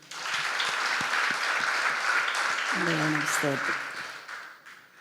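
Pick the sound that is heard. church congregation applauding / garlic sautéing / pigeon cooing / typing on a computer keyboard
church congregation applauding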